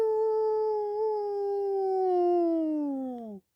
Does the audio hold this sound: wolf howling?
yes